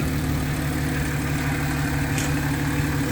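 An Audi 3.0T supercharged engine idles steadily just after a lower heat range spark plug install, a close, even low rumble with constant hum and no voices.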